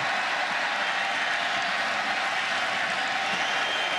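A football stadium crowd at a 2019 college game between Syracuse and NC State roars and applauds in a loud, dense, unbroken wash of cheering that fills the whole stretch without a break.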